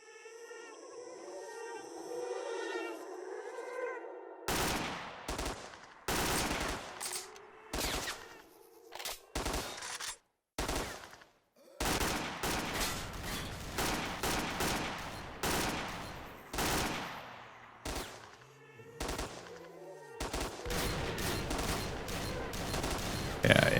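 Gunfire in the video game S.T.A.L.K.E.R. (OGSE mod): after about four seconds of quiet tonal ambience, dense, loud bursts of shots and rapid automatic fire crack almost continuously, close and overlapping.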